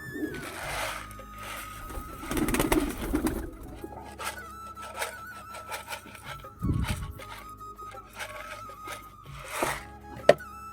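Pigeons cooing and moving about while feeding in a loft in Rajshahi, with soft repeated coos, scattered wing flaps and shuffling at close range.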